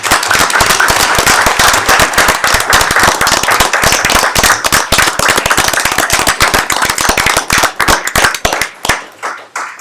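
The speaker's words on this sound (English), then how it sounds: "And I think they deserve a round of applause." Loud, dense applause from an audience at a village board meeting, sustained for several seconds with rapid overlapping claps, then tapering to a few scattered claps before stopping.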